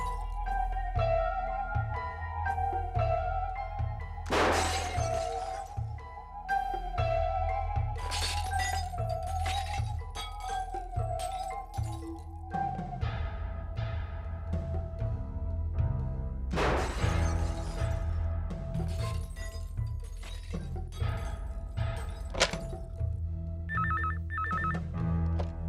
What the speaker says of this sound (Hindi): यहाँ बिल्डिंग के इतने सारे कांच टूट रहे, इतना शोरगुल हो रहा